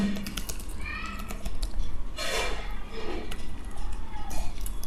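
Rapid clicks of a computer keyboard as code is typed for a Node.js email script, close and steady with bursts of keystrokes, no voices over them.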